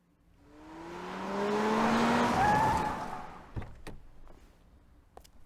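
A car passes by in the AI: The Somnium Files video game, swelling from faint to loud with a rising engine whine and tire hiss, then fading, followed by a few sharp clunks.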